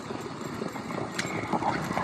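Horse galloping at a tent-pegging riding event, rapid hoofbeats in a noisy outdoor crowd setting, brief and moderately loud.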